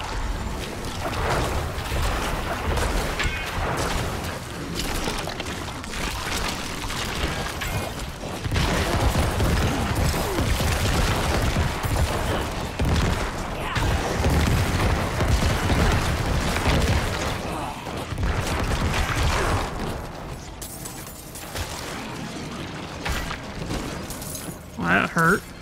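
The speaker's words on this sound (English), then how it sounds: "let's actually put another point into the corpse explosion" Corpse explosion skill effects in Diablo 4 burst repeatedly in a dense stream of booms and crunches, layered with game combat noise in a dungeon catacomb, mixed under ongoing sound throughout.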